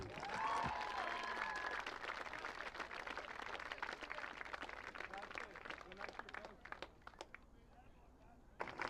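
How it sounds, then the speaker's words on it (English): Crowd applause at a high school lacrosse game honoring senior players of the girls and boys teams: a steady, fairly faint wash of outdoor clapping with some crackle, under a few voices. "please give a round of applause for all of our seniors for both the girls and the boys lacrosse teams"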